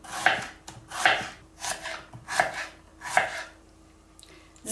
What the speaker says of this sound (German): Dafür schneiden wir unsere Zwiebel in so eine feinere